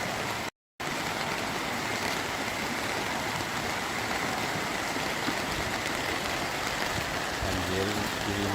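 Heavy rain pours steadily during a flood in Lahat, a dense, close wash of water that holds constant throughout with no break in intensity.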